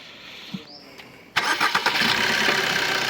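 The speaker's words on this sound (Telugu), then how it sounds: "ఆఫ్ చేసాను మళ్ళీ ఆన్ చేస్తున్నాను చూడండి అన్న ఇంజన్ ఒకసారి" A 2018 Maruti S-Cross Zeta engine cranks briefly and fires up, settling into a steady idle, heard close and alone after a quiet click or two.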